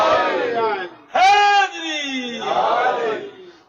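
A religious gathering's crowd chants slogans together in loud, rising and falling waves of massed voices, one sharp collective shout standing out near the middle, heard close and alone without separate talk.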